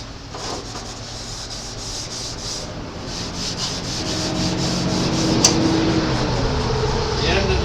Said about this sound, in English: call it what you want, Scotch-Brite, I'll go over this, and we're scuffing it and cleaning it at the same time